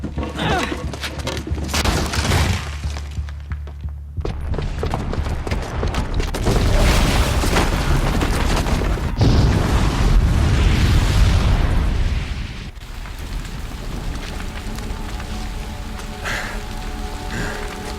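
A booby-trapped bomb going off in Horizon Zero Dawn, a loud sustained roaring blast with crackling debris swelling in the middle and then tapering into a rumbling aftermath.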